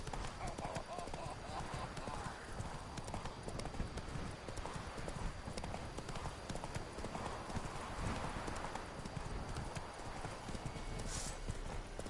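Roach, the horse in The Witcher 3 on PS4, gallops with a rapid, continuous drumming of hooves, loud and close, while voices talk over the ride.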